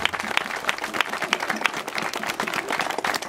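Crowd applause at the Arbus carnival in 2012, dense and continuous clapping from many hands that stays fairly even for a few seconds.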